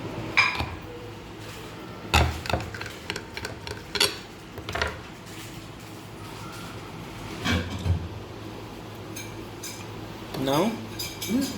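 Knife cutting through a chicken chatti pathiri, a layered Kerala pastry cooked in a non-stick pan, giving scattered close knocks and scrapes of a blade against a plate or pan, with brief voice sounds between them.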